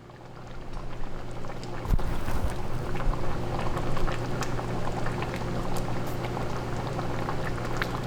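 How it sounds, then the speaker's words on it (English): A pot of chickpea tofu in sauce comes to a boil with dense, steady bubbling and popping throughout. It is close and fairly loud, with a brief clunk near the start and no voices. "I'm going to bring this to a boil and add in my chickpea tofu."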